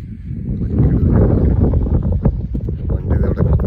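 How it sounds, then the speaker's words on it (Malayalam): Wind gusts at the Kootenay Valley viewpoint, a loud, low buffeting roar against the microphone that lasts throughout, with a faint rustle under it. "കാറ്റ് പോയുണ്ട് കേട്ടോ."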